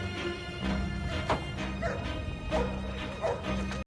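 Several dogs bark, yip and whimper in a film scene, with sharp bursts recurring over a steady low background throughout.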